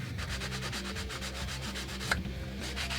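Edges of a Kydex knife sheath are sanded smooth with quick, rhythmic back-and-forth rubbing strokes, close and fairly quiet, plus one small sharp tick partway through.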